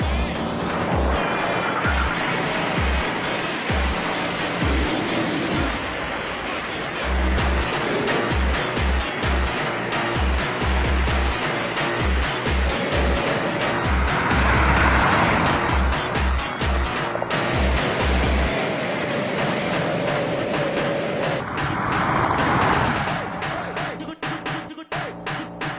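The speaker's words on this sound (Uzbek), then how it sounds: "Malibu 2 XL ga qarshi Malibu Premier ko'p kutilgan, ko'p so'ralayotgan poyga." Two Chevrolet Malibu sedans, a Malibu 2 XL and a Malibu Premier, roar through a street drag race, engines loud and sustained with rising passes and rushing wind, rhythmic thumping and whooshes over about twenty-five seconds.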